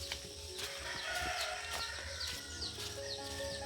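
Chickens and chicks mill around a papaya seedling bed, with clucking, a rooster crowing and high peeping chick calls scattered over a faint farmyard background.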